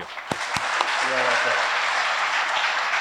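Applause from an audience at a men's lacrosse awards breakfast, a dense wash of clapping that swells and holds steady throughout, with a few faint voices mixed in.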